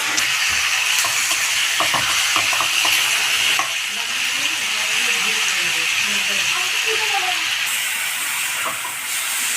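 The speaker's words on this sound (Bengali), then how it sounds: "এবার আমি চিকেন দিয়ে কিছুক্ষণ ভেজে নেব।" Chicken frying with browned onions in a pan makes a loud, steady hissing sizzle, broken by spoon clinks early on, as voices talk in the background partway through.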